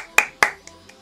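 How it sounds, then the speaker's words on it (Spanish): Two sharp, close hand claps about a quarter second apart, then two faint softer taps. A listener clapping during a reaction to a music video, with no talk. "He aplaudido antes de tiempo"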